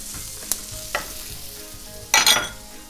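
Half a minced shallot hitting a pan of rendered pork fat, a close, bright sizzle with a few sharp crackles and stirring scrapes, swelling into a louder burst of frying.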